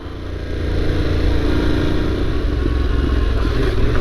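A motorcycle larger than a KTM ridden slowly, a steady mid-pitched engine drone with wind noise building after a soft start, close and loud, no voices.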